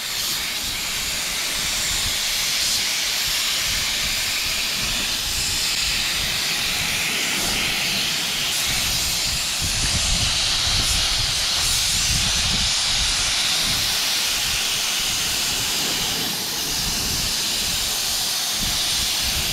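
A paint spray gun with its nozzle wide open lays a coat of paint on a 1959 Dodge Coronet, a loud, continuous airy hiss that holds steady throughout.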